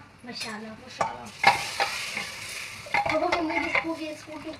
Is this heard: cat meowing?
no